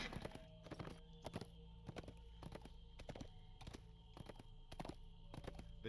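Horse hooves clip-clop steadily in the online game Dungeons & Dragons Online, a regular walking rhythm of quiet, close thuds over a faint backdrop, with no talking.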